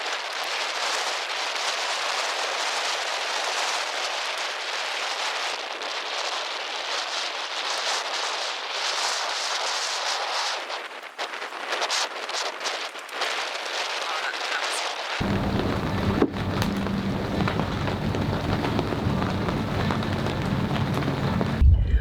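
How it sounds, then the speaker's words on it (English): Heavy rain pours down on a boat during a thunderstorm with dark clouds and lightning. It is a dense, steady hiss throughout, and a deep low rumble of thunder swells in over the final seconds. "dark clouds rolling in, heaps of thunder and lightning"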